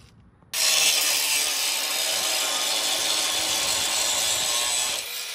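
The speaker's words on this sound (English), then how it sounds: "I'm gonna have to get in here and grind those down." An angle grinder bites into the steel frame of a chopped and shortened 3/4-ton 12V Cummins Ramcharger, starting abruptly into a loud, harsh, sustained scream that holds for about four and a half seconds, then eases off near the end.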